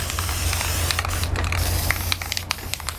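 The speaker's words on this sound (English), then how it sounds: "Just a little distance from it and just start spraying" Spray paint hisses steadily from an aerosol can onto a photo canvas, close and continuous for about three seconds, with a few brief pauses and a low outdoor rumble underneath.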